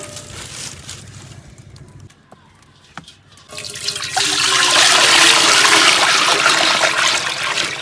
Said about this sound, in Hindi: पानी डाला है पतीले में।